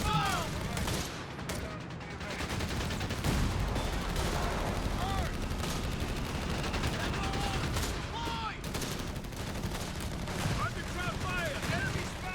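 Anti-tank gun fire in a Company of Heroes 3 match, with repeated gunshot cracks and battle noise spread through a dense, continuous mix of game sounds, steady and loud throughout.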